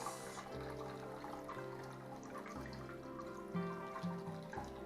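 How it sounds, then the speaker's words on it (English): A shaken mixed drink is poured into a glass, a faint splashing trickle in short bursts near the mic, with no talking. "go ahead and pour it into our glass."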